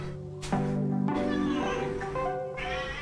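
A pet cat meows indoors, giving a couple of drawn-out, wavering meows close by, with a voice talking over parts of it.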